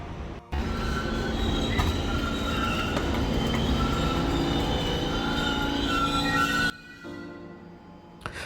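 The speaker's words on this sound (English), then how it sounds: "this here is the train, and I'm gonna get on this train" A New York City subway train rolls through a station, its wheels squealing in loud sustained metallic tones over rumbling rail noise, then cutting off abruptly as the car noise drops near the end.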